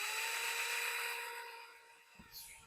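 A power drill whines at a steady high pitch while driving servo screws into plywood, then winds down and stops, followed by a few faint knocks.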